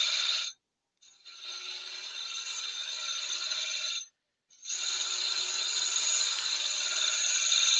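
A woodworking tool drawn across the wood in a steady pull cut with the tool held at 45 degrees, a sustained scraping hiss in long strokes separated by brief pauses, close and fairly loud.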